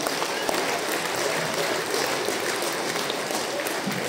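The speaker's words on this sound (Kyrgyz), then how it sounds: "Рахмат, алака чапкандарга Алла разы болсун" A theatre audience at a Kyrgyz folk talent comedy show breaks into steady, dense applause that fills the hall without pause, with faint voices mixed into the clapping.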